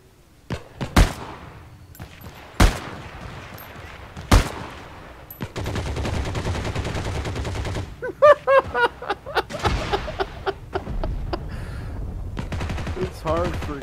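World War II shooter game Heroes & Generals with gunfire heard up close: three single sharp shots spaced apart, then sustained rapid automatic fire in bursts, loud and punchy throughout.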